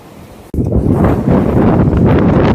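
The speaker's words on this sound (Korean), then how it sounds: "진짜 바람 살짝 잠잠해졌다" Strong, steady wind gusts roar across a microphone on the East Sea shore at Sokcho during surf-casting fishing for flounder, with surf likely mixed in. The wind starts abruptly after a brief quieter moment and stays loud and constant.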